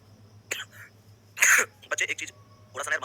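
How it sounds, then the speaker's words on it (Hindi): A teacher coughs repeatedly mid-lesson in a quiet room: a few harsh, separate bursts over about three seconds, the loudest near the middle, with a low steady hum underneath. "बार बार खांसी आ रही है"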